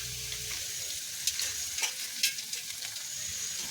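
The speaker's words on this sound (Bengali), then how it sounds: "এবার আমি যে ফুলকপির টুকরোগুলো কেটে রেখেছিলাম সেগুলো দিয়ে দিচ্ছি।" Cauliflower pieces sizzle steadily in a pan with ginger, a constant bright frying hiss broken by a few sharper pops and crackles, with no talking.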